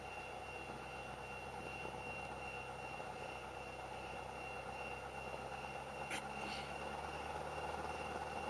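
A Cessna light airplane's engine drones steadily and evenly as it departs runway 26 on takeoff, a continuous close engine hum with a faint brief squeak partway through.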